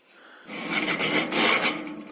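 A scraper being dragged across a barbecue grill to clean off carbon and muck, a loud, close rasping scrape that builds after a quiet start and then holds, with no talking.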